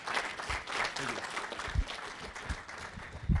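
Applause from an audience at a startup pitch competition, a steady wash of clapping at moderate distance with faint voices mixed in.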